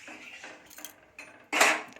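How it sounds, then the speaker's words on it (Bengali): A metal kadai, a wok-like pan, is washed in a home kitchen: a few close clanks and scrapes of metal, ending in a louder splashy clatter, with no talk. "কড়াটা ধুচ্ছি"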